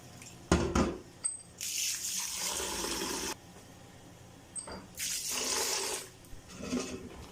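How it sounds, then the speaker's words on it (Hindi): Water pours and sloshes in a large bowl in several separate bursts as rice for jeera rice is rinsed, with quiet pauses between splashes. "इसे एक बड़े बाउल में डालेंगे और अच्छी तरह 2-3 पानियों में इन्हें धो लेंगे"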